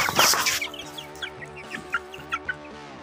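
Young Shamo chickens, about six weeks old, cluck in short, repeated bursts close by while being placed in a cardboard box, starting with a flurry of rustling or wing flapping, then settling into soft intermittent clucks.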